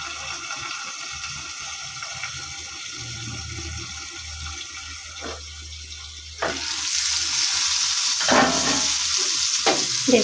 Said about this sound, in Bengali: দেখুন আমার কুমড়ো ভাজা হয়ে এসছে, গায়ে লাল লাল হয়ে গেছে।